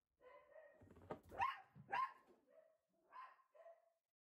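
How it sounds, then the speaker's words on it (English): Dogs let out a few short barks and yips in quick succession, then two more after a pause. They sound faint and distant with no talking. "They bark at nothing, those dogs, they bark at nothing."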